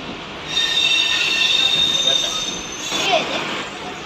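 A suburban train out of Andheri runs along the track, its wheels letting out a sustained high-pitched metallic squeal over a constant rumble, close and loud, with a brief surge near the end.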